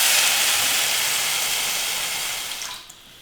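Water poured into a pan of hot ghee bursts into a loud, hissing sizzle that gradually weakens and fades away near the end.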